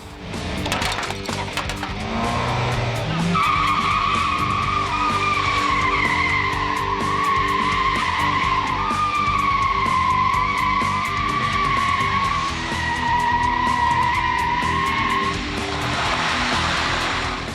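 A Hyundai Veloster Turbo, driven by a professional on a closed course, skids with a loud, sustained tire squeal that rises and shifts pitch over the engine and road roar, then eases off near the end.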